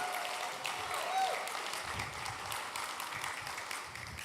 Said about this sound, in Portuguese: Um aplauso para nós musicantes, danke para nós time alabança.